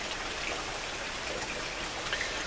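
Rain falling on a street after a heavy downpour has eased, a faint, even hiss of drops with scattered light patter and no voices.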